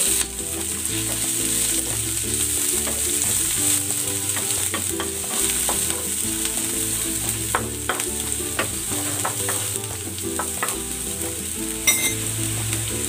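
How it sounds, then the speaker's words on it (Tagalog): Garlic and onion sauté in a hot pan with oil, a steady close sizzle and frying hiss running throughout, with occasional light scrapes and clinks of a utensil stirring. "Igigisa ko na rin tong bawang. Ayan, ilalagay ko na rin yung sibuyas."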